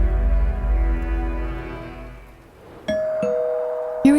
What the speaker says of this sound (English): Hearing the doorbell, she quickly discarded everything and went to answer it.